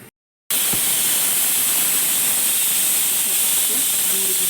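A pressure cooker whistles loudly while tomato dal with green chillies cooks, a sustained, steady steam hiss that starts abruptly after a brief silence and holds for several seconds.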